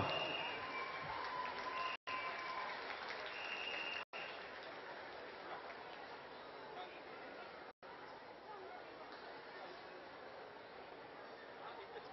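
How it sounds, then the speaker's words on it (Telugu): A crowd claps to welcome a dance troupe at a Telugu community cultural celebration, sustained applause mixed with chatter and crowd hubbub, with a few brief dropouts along the way. "ఒకసారి గట్టిగా చప్పట్లు కొట్టి వాళ్ళని ఆహ్వానిస్తాం."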